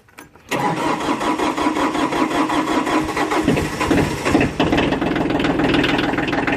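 A Kioti DK35/45 tractor engine, just fitted with a new timer relay, cranks briefly and catches, then settles into a loud, close, rough-running idle with no one speaking.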